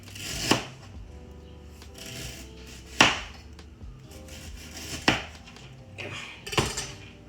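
A knife cuts thin slices of ginger on a board, giving four sharp, separate chops about two seconds apart with light scraping between them, close and alone.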